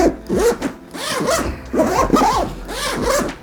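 A freshly lubricated backpack zipper is worked back and forth, giving a repeated rasping zip in quick strokes, close and fairly loud, with no voices.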